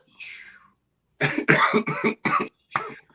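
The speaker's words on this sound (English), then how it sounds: "That made me cough right there." A man coughs in a quiet indoor interview setting: a faint throat sound, then a close burst of several harsh coughs in quick succession and one last cough after a short pause.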